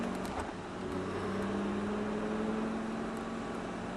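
Expensive car accelerating on a race track, a sustained engine drone with a rising steady tone, heard from inside at moderate, fairly faint level without talk.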